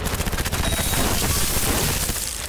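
Rapid gunfire from a weapon in Cyberpunk 2077 rattles in a dense, loud burst of fast repeated shots, close and continuous for a couple of seconds, trailing into a noisy wash.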